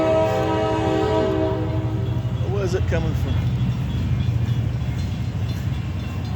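A train horn blasts loud and sustained at the start in Alameda, California, then gives way to the steady rumble of a passing train, with people talking nearby.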